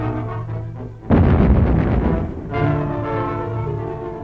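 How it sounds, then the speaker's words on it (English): A huge explosion bursts in suddenly, a loud deep boom that rumbles and fades over a couple of seconds before a lower drone returns. "I do appreciate just random B-roll of huge explosions for no reason"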